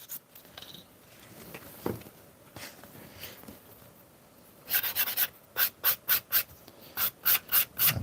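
Leather edges are sanded at a workshop bench: faint scattered rubbing gives way to a run of about ten crisp, rhythmic back-and-forth strokes, close and distinct.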